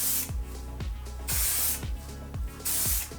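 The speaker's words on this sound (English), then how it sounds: "Whew, I'm in a cloud of texture spray." Three long, loud bursts of aerosol texture spray hiss close by onto hair, separated by short pauses filled with light handling noises.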